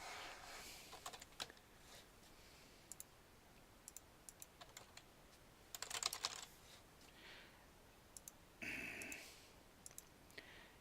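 Someone types on a computer keyboard, making scattered, uneven clicks with a denser burst of keystrokes midway, fairly close and alone with no talking.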